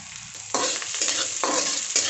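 Chopped onion and urad dal sizzle in hot oil on full heat, with bursts of stirring and scraping repeating about every half second over a steady fry, close and moderately loud.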